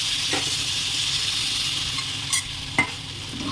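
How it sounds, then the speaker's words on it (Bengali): Cornflour slurry hits chilli chicken frying in a pan, raising a steady close hiss and sizzle, with a couple of brief clinks of a spoon against the pan. "এখন আমি কর্নফ্লাওয়ারটা ওর মধ্যে দিয়ে দেবো।"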